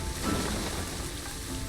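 Steady rain falls in the Planet Zoo video game, a continuous broadband hiss with soft patter, at moderate level and alone.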